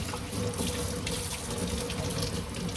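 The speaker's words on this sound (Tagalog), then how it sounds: "Sa paghugas ng isda guys, huwag natin tigilan sa tubig." Tuna fish being washed under a running tap, a steady loud gush of water splashing into a sink, close and continuous, with no talking.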